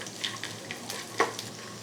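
Chopped cashews frying in a pan for green gram payasam under a soft sizzle, with a few quick scraping strokes as they are stirred, close up and brief.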